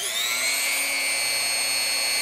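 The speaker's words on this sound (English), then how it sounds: "Let's drill the hole. I have a drill bit in there now." A rotary tool fitted with a drill bit runs at high speed while drilling a hole, giving a steady, close, high-pitched whine with no talk.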